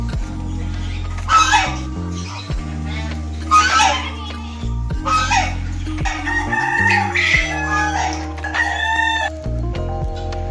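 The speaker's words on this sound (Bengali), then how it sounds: "এটা মুরগি নাকি?" A very large chicken in a park in Malda clucks and squawks in loud, close bursts, with a crow-like call and other bird chatter over a steady low hum.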